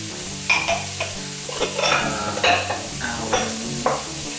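Onion and celery sizzle in a pot of melted fat for chili, with a spoon stirring and scraping in irregular bursts against a steady fry, close by and without talk.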